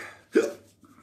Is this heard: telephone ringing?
no